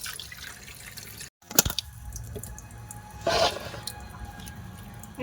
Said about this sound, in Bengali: এইরকম করে বাকিগুলো মাছ ধুয়ে নেব